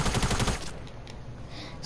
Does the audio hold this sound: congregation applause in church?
no